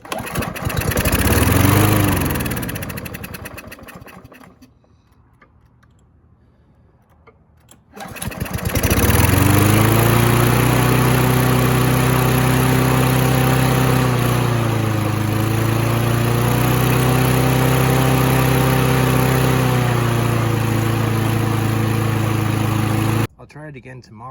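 A free Husqvarna lawn mower being repaired sputters and revs briefly, cuts out to near silence, then restarts and runs steadily for a long stretch with a loud, close drone, with speech at times over it.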